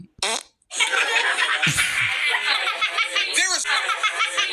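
A loud, sustained comic fart sound runs for several seconds after a short opening burst, with laughter-like chuckling mixed in and no clear speech over it.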